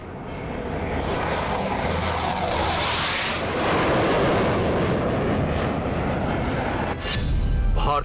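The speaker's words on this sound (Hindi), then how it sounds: "भारतीय तोपों की गरज से थर्राया चीन।" Continuous loud roar of heavy engines or jets, broadband and sustained, with a sharper burst near the end; no distinct individual cannon blasts stand out.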